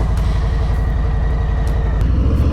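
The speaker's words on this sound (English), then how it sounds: "this is officially my last ride on this Harley-Davidson Street Bob" Harley-Davidson Street Bob motorcycle on the move, its engine giving a loud, close, steady low pulsing throb with a fast even beat under a rushing hiss of wind.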